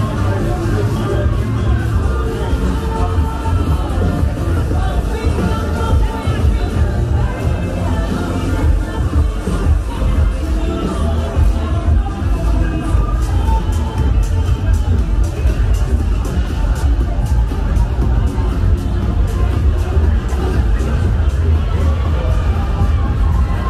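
Dense crowd chatter fills a busy Hong Kong street at night, a continuous loud babble of many overlapping voices with occasional bangs and footsteps, no single voice standing out.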